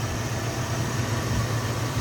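A 1968 Chevrolet Camaro's 327 V8 idles smoothly and steadily, a continuous low rumble heard close with no talking.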